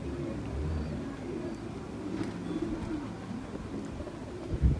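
Pigeons coo softly in low repeated murmurs, fairly faint against steady outdoor background noise, with no talking.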